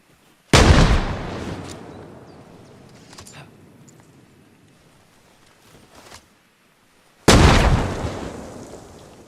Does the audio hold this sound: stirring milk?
no